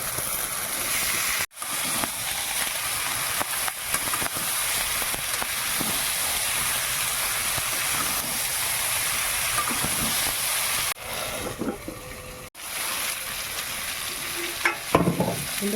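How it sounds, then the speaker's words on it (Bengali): Eggplant stirred and frying in a pan of hot oil while cooking dried lote fish curry with potato: a loud, continuous close sizzle with scraping spatula strokes, briefly dropping out twice, no voices. "বেগুনটা দিয়ে একটু নাড়ি"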